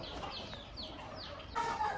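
A rooster gives a few quick, close clucks in a short sequence, with a faint whistle-like tone near the end.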